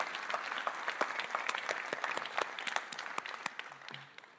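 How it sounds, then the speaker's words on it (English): Graduation audience applauding for campus staff, dense clapping from a crowd indoors that holds steady and then thins out toward the end. "A warm round of applause."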